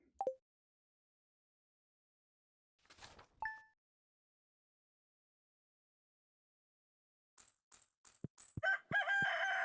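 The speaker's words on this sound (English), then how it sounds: "Where is the rooster coming from?" Stardew Valley video game sounds play in sparse bursts: a short tone, a brief crow-like fowl call, then a quick run of clicky coin-like chimes, quiet and separated by silence with no talk.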